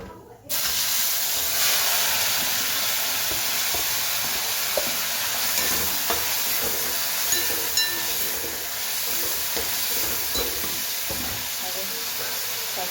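Mustard seeds, asafoetida and tomatoes hit hot oil in a pan, setting off an abrupt loud sizzle that settles into a steady, close spattering hiss with occasional crackles.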